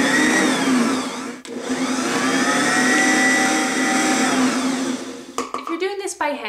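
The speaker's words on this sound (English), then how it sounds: "since we're mixing it with a powerful mixer, we're only going to do this for about 20 to 30 seconds." A powerful electric stand mixer churns homemade bread dough, a loud steady whirring motor roar that holds for about five seconds before stopping, followed by a few clattering knocks.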